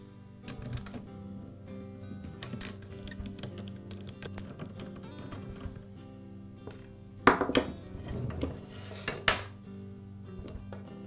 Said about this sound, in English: Now I can remove the motor from the mounting bracket. It's held in place with a couple of nuts.